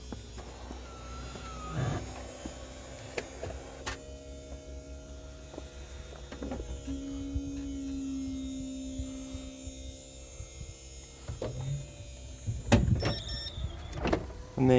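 Electric motors whir and hum as the convertible roof and tonneau cover of an Opel Astra G cabriolet move, with intermittent clicks and clunks from the latch mechanism and a final louder clatter.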